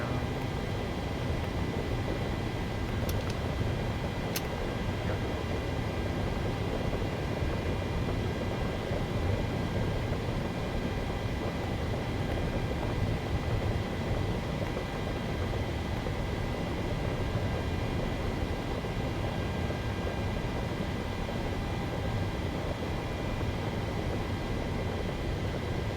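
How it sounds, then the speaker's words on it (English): The auxiliary power unit of an Aerolineas Argentinas Boeing 737-800 runs as a steady, loud, broadband whooshing drone with a faint high whine, unchanging for the whole stretch and with no one talking. "APU is coming on right now."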